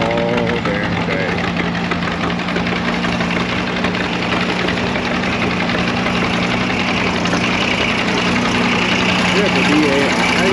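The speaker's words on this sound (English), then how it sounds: "All the idling 2-cylinders." Several two-cylinder tractors idle together at a tractor pull, a loud, steady, thumping engine drone with constant knocking pulses and vibration throughout, with voices talking over it.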